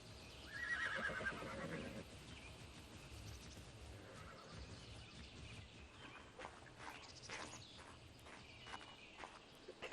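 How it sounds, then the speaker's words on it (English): Horses in the video game Ark whinny near the start, a clear neigh around the first two seconds, followed by faint clip-clop steps and soft ambient sounds at low overall volume. "You'll see I've got a turtle and some horses that are sitting down inside of here."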